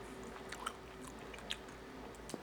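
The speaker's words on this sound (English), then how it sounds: "Time to give the old-fashioned chomp." Biting into and chewing smoked Dr Pepper chicken wings cooked on a Weber kettle grill: a few faint, close crunchy bites and soft chewing, with no talk.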